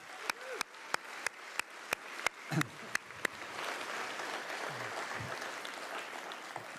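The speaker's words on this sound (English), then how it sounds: "could we have a round of applause for our faculty?" Graduation ceremony audience claps for the faculty, starting with a few sharp, separate hand claps that build into softer, continuous crowd applause further off.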